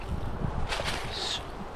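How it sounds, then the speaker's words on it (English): Low, gusty wind rumbles against the microphone outdoors in the woods, with soft rustling and a brief brighter whoosh in the middle. "Hopefully not too windy for you to hear me."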